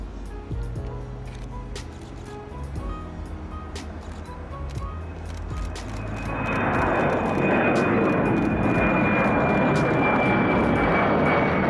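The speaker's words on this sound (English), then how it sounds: "we see this American E-170 departing who I believe is heading to Dallas" An American Airlines Embraer E-170 regional jet departs Des Moines airport. A distant engine hum gives way to a loud, swelling jet roar that holds steady to the end.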